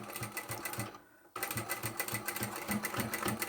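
A sewing machine runs a quick rhythmic stitch on a small fabric lipstick holder, pausing briefly and then stitching again at a steady rapid pace, close and alone.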